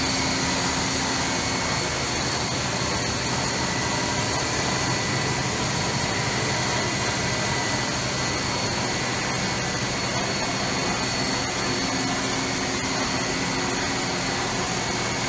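A 2003 Hurco VM1 CNC machine with its spindle turning at 3,000 RPM, raised on wooden blocks: a loud, steady, unbroken whine with constant tonal hums and a broad mechanical roar, and no voices.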